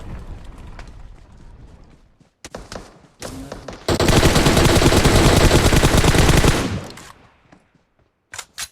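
Shooter video game gunfire: scattered single shots give way to a dense, loud burst of rapid automatic fire lasting about three seconds, then a few isolated shots after a short pause.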